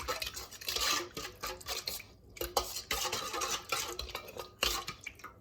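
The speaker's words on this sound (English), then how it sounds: "Give that a little mix around" A spoon stirs a yeast and sugar mixture in a bowl. Quick irregular scraping and clinking strokes against the container come close and clear, with brief pauses between bursts and no talk.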